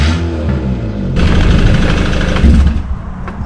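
A modified Peugeot 206 with a V6 engine swap revs hard and loud, surging into a roaring burst before easing off slightly.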